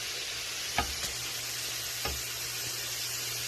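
Everything soup simmers in a pot with a steady, faint hiss and bubbling, broken by a couple of soft knocks.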